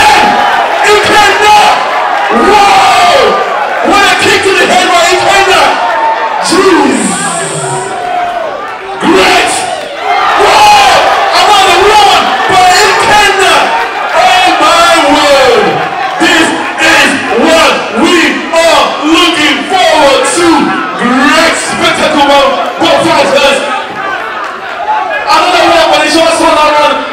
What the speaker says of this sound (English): You can see his fans rooting for him, urging him, cheering him.